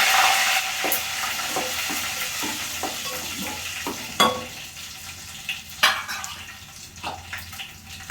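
Fenugreek seeds crackle and splutter in hot oil in a pan for a tangy fenugreek stew, giving a dense, close sizzle dotted with sharp pops and a few spoon knocks.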